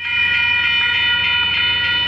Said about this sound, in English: train's gonna finally leave.